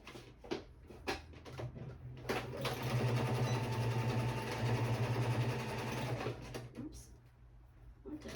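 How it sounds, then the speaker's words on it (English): A home sewing machine stitching scrappy paper tabs for a junk journal page, whirring steadily for several seconds after some short starts and stops, with a few brief rattles around it. "So bear with me in the sound of the sewing machine."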